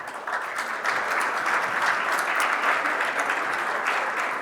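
A conference audience claps loudly and continuously, a dense, steady wash of applause from a large crowd that holds its level throughout.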